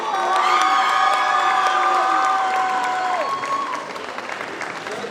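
A crowd at a cosplay contest in Lorient claps, cheers and whoops loudly, with high excited shouts and squeals riding over sustained applause that eases off slightly toward the end.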